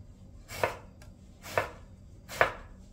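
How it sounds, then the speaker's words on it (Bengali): A knife cuts eggplant (brinjal) into very thin slices on a board, three crisp, evenly spaced chops close up, with quiet room sound between them. "বেগুনের এই রেসিপিটার জন্য বেগুনটা খুব পাতলা করে কেটে নিয়েছি"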